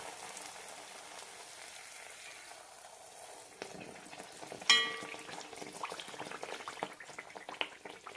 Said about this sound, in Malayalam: മീഡിയം ഫ്ലെയിമിലിട്ട് ഫ്രൈ ചെയ്തെടുത്താൽ മതി.